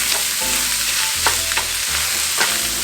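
Onions browning in a pan, a steady close sizzle with a few scraping stir strokes, no voices.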